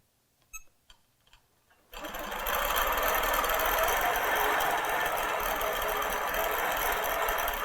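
A Q'nique 15R quilting machine starts up after a few small handling clicks, then runs in a steady, loud, continuous stitching whir that holds without a break to the end.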